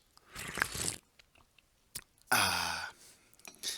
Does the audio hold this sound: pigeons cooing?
no